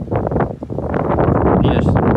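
Gusty wind on a golf course buffets the microphone in loud, rumbling bursts, rising and falling through the short stretch.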